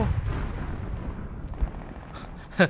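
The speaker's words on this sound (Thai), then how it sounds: "ตกใจเสียงระเบิดนั่นแหละ" A deep rumbling explosion in the video game Squad rolls out and fades, followed by a few sharp pops and a short burst near the end.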